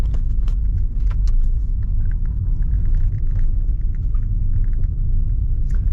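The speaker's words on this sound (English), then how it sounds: "we're basically driving from the Big Buddha on down, showing you what the roads look like along the way" A car rolls down a winding mountain road from the Big Buddha in Phuket, Thailand, heard from inside as a steady loud low rumble of engine and tyres with small rattles and clicks on top.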